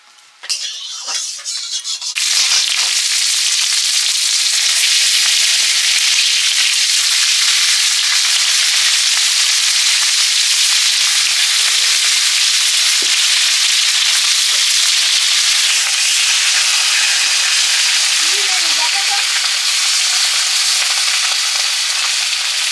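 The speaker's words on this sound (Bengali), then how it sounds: "মাছগুলো দিয়ে দিয়েছি ভাজার জন্য" Loud, steady sizzling and crackling of salted, turmeric-coated folui fish frying in hot oil, beginning after a brief quieter start and continuing unbroken with faint spatters throughout.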